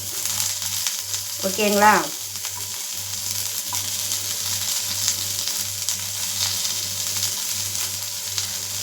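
Chopped onions sautéing in a pan for mutton gravy masala, a steady sizzle throughout with a low rhythmic hum underneath and a brief voice near the start.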